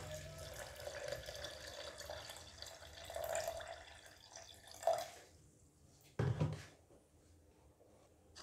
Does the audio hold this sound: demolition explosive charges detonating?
no